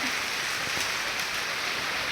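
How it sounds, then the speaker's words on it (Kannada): Rainwater dripping from above onto a balloon-decorated birthday venue, a steady close patter of drops forming a continuous hiss with a few louder taps and no voices. "ಮೇಲ್ಗಡೆಯಿಂದ ನೀರು ಬೀಳ್ತೈತೆ"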